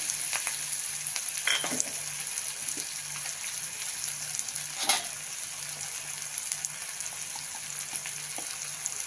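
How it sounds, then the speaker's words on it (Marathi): Ginger, garlic and coriander paste sautés in a pan for masala bhindi, with a soft, steady sizzle broken by a few faint stirring clicks. "हे आपण करून घेतलेली आलं आणि लसूण कोथिंबीर पेस्ट. त्याला छान परतून घ्यायचं."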